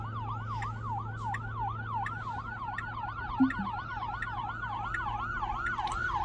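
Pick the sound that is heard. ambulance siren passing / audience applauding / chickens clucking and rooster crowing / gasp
ambulance siren passing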